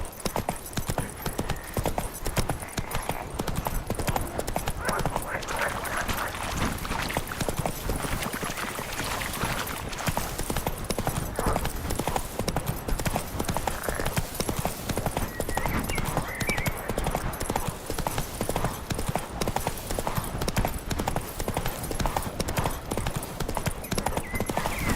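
Roach, a horse in The Witcher 3, gallops steadily for the whole stretch, a dense continuous pounding of hooves with game ambience behind it and no talk.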